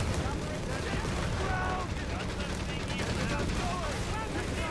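Assault infantry exchange gunfire in the video game Company of Heroes 3, a dense, continuous crackle of rifle and machine-gun bursts with scattered whistling sounds, loud and unbroken throughout.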